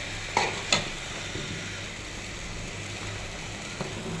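A tempering of turmeric and coriander leaves frying in a pan for dal, a soft steady sizzle with a couple of sharp utensil knocks near the start and one near the end.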